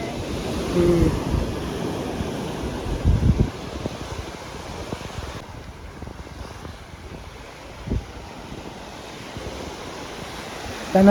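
Sea waves wash and roar continuously on the shore at Kunkeshwar, Devgad, mixed with wind buffeting the microphone, with a few louder surges rising briefly above the steady surf.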